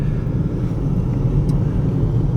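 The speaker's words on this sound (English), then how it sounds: "Taking it for a test drive." Steady low engine and road rumble from inside a 2016 Toyota RAV4 on a test drive, a constant moderate drone with tire noise and no speech.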